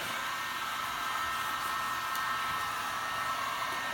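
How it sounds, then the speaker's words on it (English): Heat gun blowing hot air while applying vinyl wrap to a Shelby Rustang car, a steady close-up hiss with a constant airy roar and no breaks over a few seconds. "if you look at my heat gun, I'm barely using it"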